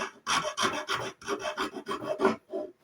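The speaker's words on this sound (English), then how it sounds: "Then you come in with the finer and finer files, and then the finer with the sandpaper." A fine file rasps across the wooden headstock of a Telecaster guitar kit in about nine steady back-and-forth strokes, close and clear, with no talking.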